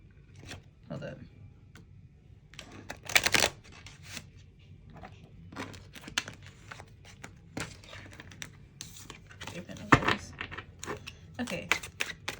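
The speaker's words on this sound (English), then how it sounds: "Okay. I think they're well shuffled." Tarot cards shuffled by hand, a run of soft riffling, slapping and rustling bursts at uneven intervals with a few sharper snaps, close up, with faint background talk.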